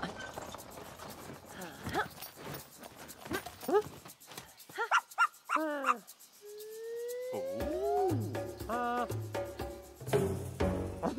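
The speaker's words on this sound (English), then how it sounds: "Woof woof." A cartoon puppy gives a few short, springy yaps amid playful animated sound effects and whooshing, with music and other cartoon noises filling the background.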